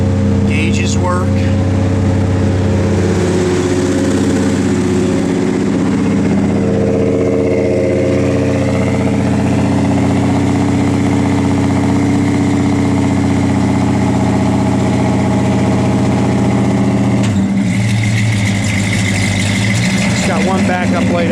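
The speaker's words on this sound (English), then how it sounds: "Just the high idle's on because it's cold" A 1969 Plymouth Road Runner engine idles steadily on cold high idle at a raised, even pitch for about twenty seconds, with a brief shift in tone near the end; a voice talks over it.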